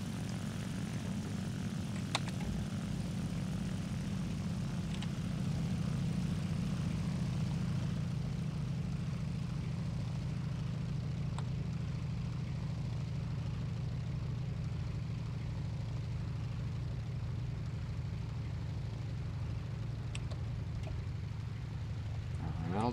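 Propeller engine of an Il-2M ground-attack aircraft in War Thunder drones steadily and loudly throughout, a continuous low throbbing hum that eases slightly in power over time, with a few faint clicks.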